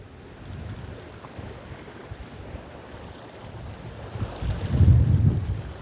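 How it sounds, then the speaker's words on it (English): Wind blows steadily at a lakeshore during shoreline fishing, giving a low, rumbling buffet that swells louder toward the end, with no talking. "Wind's blowing right at me."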